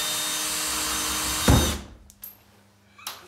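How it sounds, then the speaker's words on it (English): A power drill drives a screw into a wall while a towel rail is mounted, a steady whirring buzz for about a second and a half that ends in a sharp stop, followed by a few faint clicks and handling knocks. "Make sure your drill's going in the right direction."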